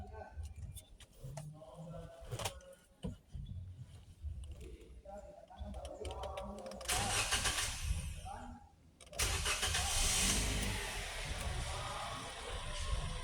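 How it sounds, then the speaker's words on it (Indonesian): A Toyota Sienta engine on a service lift cranks and catches partway through, then settles into a steady run, with workshop clatter and a person talking throughout. "Ketika mesin sudah dinyalakan"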